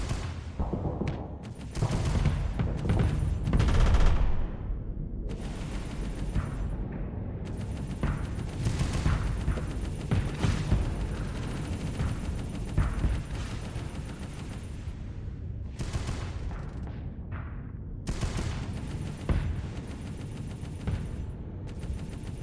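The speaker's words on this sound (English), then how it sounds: "Lots of missiles being fired at the moment." Dense barrage of missiles and weapons firing in the space combat video game Starsector, loud and continuous with overlapping blasts, launches and explosions throughout, no pauses.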